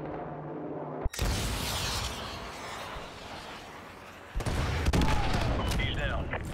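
Sustained gunfire in Call of Duty Modern Warfare 2 Remastered, dense loud bursts of automatic rifle fire and shots crackling continuously, with a sharp cut and a heavier burst later, near and intense, with radio voices faint underneath.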